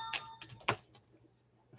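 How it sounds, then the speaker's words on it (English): A phone rings faintly in the background of a quiet indoor room. Brief electronic tones come and go over a near-silent backdrop. "The phone rings in the background."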